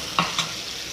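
Tuyo, dried fish, sautéing in a hot pan, a steady sizzling hiss broken by two quick scraping stirs, close and clear.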